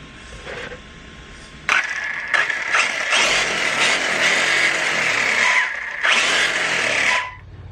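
Losi Tenacity DB Pro RC truck running on a 2S LiPo, its electric motor whining loud and close in repeated bursts of acceleration separated by short pauses.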